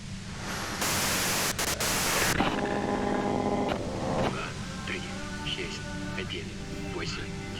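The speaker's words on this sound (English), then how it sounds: "you can do it through the white noise." A loud hiss of white noise static from the video game Disco Elysium, a harsh broadband burst of a second or two, then a voice speaks under lingering lower noise.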